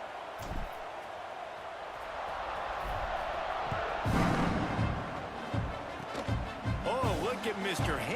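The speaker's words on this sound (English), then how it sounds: "this crowd is buzzing after that last score" A football stadium crowd buzzes after a score in a college game, a loud, steady roar of many voices swelling midway and staying high, with announcer-style talk over it near the end.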